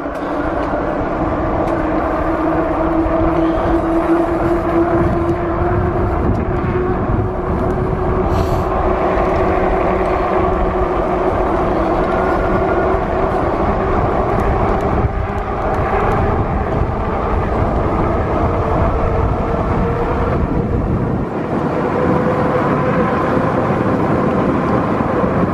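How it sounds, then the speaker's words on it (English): Electric hunting bike motor running on throttle alone without pedaling, a continuous whirring hum with steady tones, masked by heavy wind rumble from riding through the woods. "This is just going with the throttle only, not pedaling."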